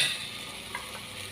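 Masala with a splash of water fries in a pan with a brief, soft, even sizzle and a faint scrape of stirring.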